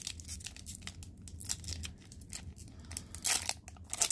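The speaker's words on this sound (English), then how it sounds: "Let's mix up all these packs and let's just start ripping." Foil wrappers of 2022-23 Parkhurst Champions hockey card packs are ripped open up close, with sharp tearing bursts and crinkling plastic in quick succession.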